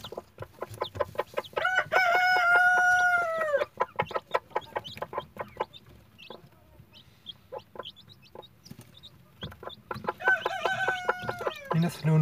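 Newly hatched chicks peep in quick, scattered bursts throughout, while a rooster gives two long, loud crows nearby, one early and one near the end.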